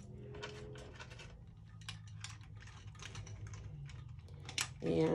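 A screwdriver fastens a Lazy Susan base onto a jewelry show display organizer, giving close, irregular ratcheting clicks and small mechanical ticks, with a person talking over much of it.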